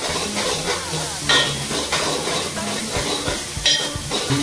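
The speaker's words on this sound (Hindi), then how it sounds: "मसाले भुनने में टाइम लेगा।" Whole spices and onions roast in a pan for mutton Amritsari, a steady dense sizzle and hiss with scraping stir strokes, close and continuous.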